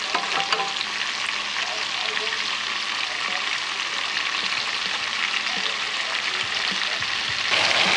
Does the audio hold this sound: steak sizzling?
yes